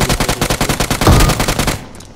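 Rapid shotgun fire in PUBG Mobile bursts in a loud, steady volley of close shots that cuts off abruptly, followed by quieter game noise.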